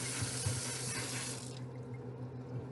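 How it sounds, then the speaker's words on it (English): A kitchen tap runs into a sink as a salmon fillet is rinsed, a close steady rush of water with a brighter splashing tone that cuts off abruptly halfway, leaving a faint low hum. "I'm going to rinse this salmon off a little bit before I get started here."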